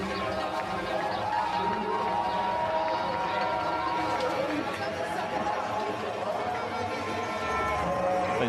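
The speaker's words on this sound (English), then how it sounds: "Plenty of applause." Steady stadium crowd noise at a Paralympic cross-country skiing finish in Milano, continuous applause and chatter, dense and distant, with a commentator talking over it.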